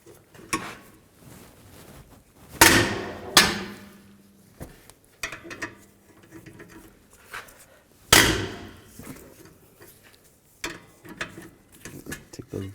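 A hammer strikes the rear brake rotor of a 2013-19 Nissan Sentra, with several loud metallic bangs spaced seconds apart, plus lighter clinks and handling noises between them.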